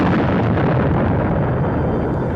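A sound-effect explosion standing in for the 1898 blast aboard the USS Maine: a loud, dense, sustained rumbling roar with broadband crackle filling the whole clip, with no voices.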